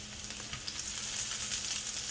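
Ginger and garlic for a homemade chicken stir-fry sizzle in a hot pan while being stirred, a loud, steady, close crackling hiss with no voices.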